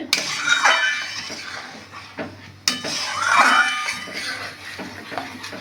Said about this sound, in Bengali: এবার ভালো করে নাড়াতে হবে।